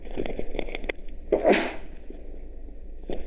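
A single sharp sneeze bursts out indoors during a religious lecture, preceded by a few soft clicks and followed by quiet room tone.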